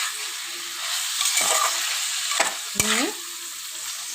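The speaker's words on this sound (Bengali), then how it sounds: "এবার ভেন্ডিটা দিয়ে দেবো। দিয়ে আমি নাড়িয়ে করে নেব।" Okra (bhindi) sizzles in cooked spiced masala in a pan while being stirred, with a few sharp spatula scrapes and clanks over a constant frying hiss. A brief word is spoken partway through.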